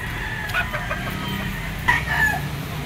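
A gamecock stag, lemon sweater type, crows at the Lipa auction market, with two short crowing calls and clucks over a busy background of other fowl.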